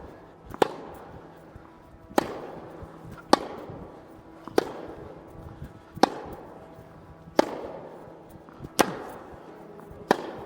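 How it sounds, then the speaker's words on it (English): HEAD Gravity Tour tennis racket striking a tennis ball in a rally, seven sharp contact pops spaced roughly every one and a half seconds, with faint court ambience and footsteps between hits and no talk. "it makes such a nice sound on the contact. It's like a swoosh."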